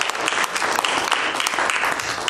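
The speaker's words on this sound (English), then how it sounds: "I'd like to give Bob a real round of applause" Warm applause from a community history talk audience fills the room, loud and continuous with many overlapping claps and no talking.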